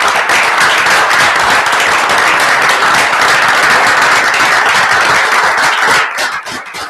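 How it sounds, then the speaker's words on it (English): Audience at a school board meeting giving a standing round of applause to honored faculty and staff, loud continuous clapping that holds steady, then thins into a few scattered claps at the end. "will you please stand up so we can give you a nice round of applause"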